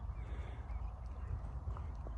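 A horse runs, its hooves making a quick, rapid clip-clop at a moderate distance, faint and fairly steady over a low rumble.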